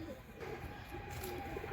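A red pigeon and others coo softly in the background, low murmuring coos over a steady ambient hum, no one speaking.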